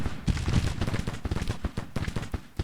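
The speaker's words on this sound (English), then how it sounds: "Over here our other soldiers have also opened fire." Civil War soldiers' musket volleys in the strategy game Grand Tactician: The Civil War, with dense overlapping shots popping irregularly at middle distance as a continuous scattered battle fusillade.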